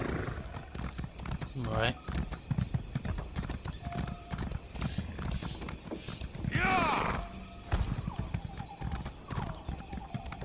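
A horse's hooves clip-clop in The Elder Scrolls Online, an irregular run of hoof strikes with a few whinnies and game effects, while someone talks casually over the top.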